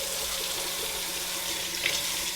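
A kitchen sink faucet sprays water in a steady, close, even hiss, with a small splash near the end.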